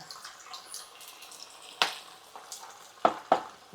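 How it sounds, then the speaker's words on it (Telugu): Potatoes frying in a pan give a gentle sizzle, broken by several sharp bursts of crackle and stirring near the end. "ఇచ్చి ఫ్రై చేసుకోండి"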